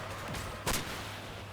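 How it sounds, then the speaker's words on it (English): A single mortar shot booms from a combat vehicle in the Crossout video game, one sharp mid-distance blast that rises above a low steady engine hum. "I know it's a mortar, so it's not exactly the biggest threat in the game"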